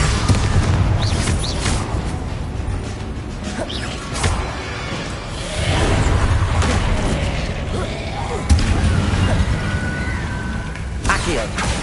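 Repeated Confringo blasting-spell explosions in Hogwarts Legacy on PS5, a dense barrage of loud booms and crashes layered over battle sounds and spell effects, with bursts recurring throughout.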